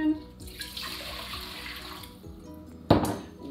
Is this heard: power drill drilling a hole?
no